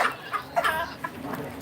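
Chicken clucking nearby, a quick series of loud, raspy clucks over a few seconds.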